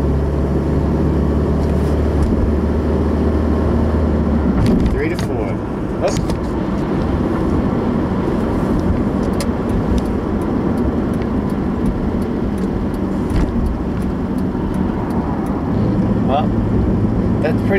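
A car with an F4A42 automatic transmission runs on the road, its engine droning steadily and loudly with a change in pitch around a gear shift, plus faint rattles and clicks.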